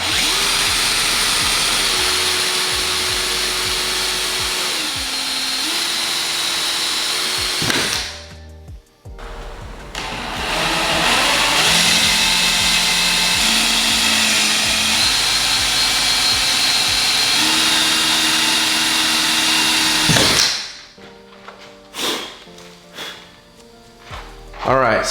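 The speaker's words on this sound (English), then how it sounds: "So when you're drilling and you actually feel you go through, stop right there." A power drill whines steadily, pitch shifting as it bites through the metal hatch of a Toyota Supra A90, pausing briefly before running again, then stopping with a few clunks.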